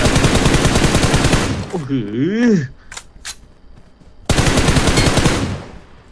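Rapid automatic gunfire in a first-person shooter video game: loud, dense bursts fill the opening and closing seconds, with a brief shouted voice in the quieter gap between.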